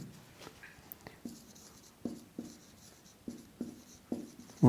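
Black marker writing on a board, a series of short squeaky strokes in an irregular rhythm, close and fairly quiet, ending with a louder sharp squeak.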